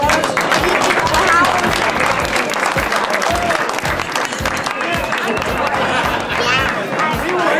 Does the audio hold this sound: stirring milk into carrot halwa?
no